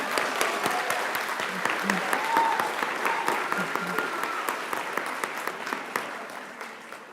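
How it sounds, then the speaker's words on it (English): A nursing pinning ceremony crowd applauds steadily for about seven seconds, dense clapping with a few sharper close claps and faint cheers or murmurs mixed in. "Yeah, you can clap for your people."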